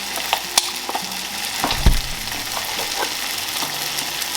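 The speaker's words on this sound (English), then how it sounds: "Step would be to add some vegetable broth or vegetable stock" Vegetable stock poured into a pan of toasting risotto rice, for a mushroom and pea risotto, giving a steady close sizzle and hiss with a few clinks and stirring knocks, no talking.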